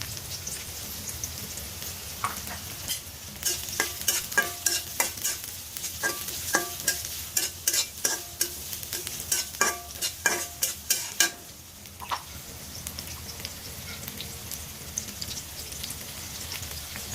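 Onion frying in soybean oil in a wok, with a steady sizzle under a quick run of scraping stir strokes against the pan that fades back to plain sizzling, close and with no talk.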